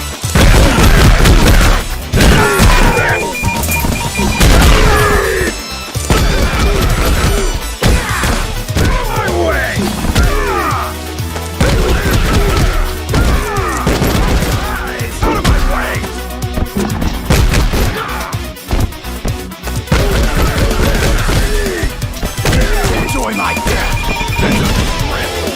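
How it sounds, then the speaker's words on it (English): Flashy combo attacks land on enemies in Double Dragon Gaiden: Rise of the Dragons, a dense, loud barrage of punches, smashes and booming impacts over game music, continuous for the whole stretch. "Here are some flashy combos that can be done on enemies that can get stunned by normal attacks."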